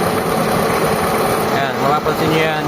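A Mitsubishi Lancer GLXi engine idles roughly with a steady mechanical rumble up close, the car burning fuel unusually fast, while someone talks over it.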